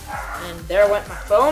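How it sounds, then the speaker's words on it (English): Small dogs barking repeatedly in the background indoors, short yapping barks under a person talking. "sorry if you guys can hear my dogs barking"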